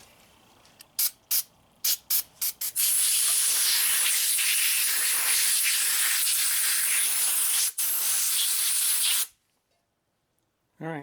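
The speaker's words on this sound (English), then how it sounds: "Now I'm going to take a rag and a little bit of brake clean." Brake cleaner sprayed onto an engine mating surface on a Honda 2.4L K24 engine during a VTC strainer gasket oil leak fix: several short hissing spurts, then a long loud continuous spray that cuts off, followed by a brief voice.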